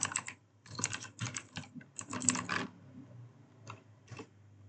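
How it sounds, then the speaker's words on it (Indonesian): Typing on a computer keyboard while entering Linux terminal commands: quick clusters of close, crisp key clicks in uneven bursts with short pauses between them, fairly quiet, and no talk. "langsung kita ketik saja"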